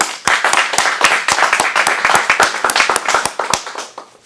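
A small audience at an adult acting-studio showcase in Phoenix claps for a performer, with distinct, separate handclaps in an uneven rhythm that loosens and thins toward the end.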